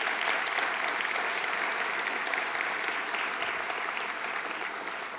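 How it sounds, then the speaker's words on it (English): A breakfast lecture audience gives a steady, full round of applause that fills the room, sustained without a break and fading slightly toward the end. "Let's give them a round of applause."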